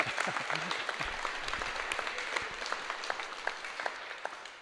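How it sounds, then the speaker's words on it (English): Audience applause at a live harvest worship service, a sustained rush of clapping from a gathered congregation that gradually thins, with a few voices faintly mixed in. "Shall we give them a round of applause?"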